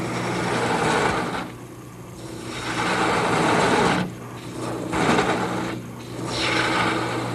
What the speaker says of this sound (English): switch to a smaller gouge, and I'll just bead over the rib in the center, taking it all the way down to the cove that I just made.